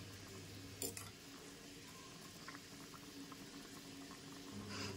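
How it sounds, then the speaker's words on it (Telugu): Mushrooms and two packs of Maggi noodles boil in a pot of water, a steady close bubbling and simmering with a faint clink partway through. "మష్రూమ్ అలాగే మ్యాగీ నూడిల్స్ 2 కూడా 5 minutes బాగా బాయిల్ అవ్వనివ్వండి."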